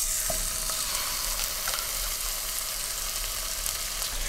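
Fish fillets for tacos sizzling and frying steadily in a hot pan, a dense, even crackle that carries loud and close throughout with no voices.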